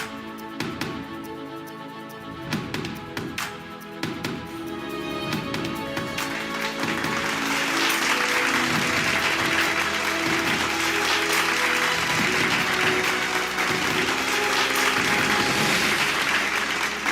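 Applause from the audience at the Recycling for Greener Tomorrow awards ceremony, opening as scattered claps under a music bed and swelling into sustained, dense clapping that lasts to the end.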